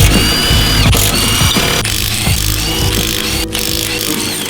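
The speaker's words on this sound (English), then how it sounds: "now that we got access to the top of the rear strut, we're going to loosen the 3 14mm nuts" Tool loosening three 14mm nuts on the top of a rear strut during a BC Racing BR Series coilover install on a Lexus IS300, loud close whirring and ratcheting bursts with metallic clicks, no talk.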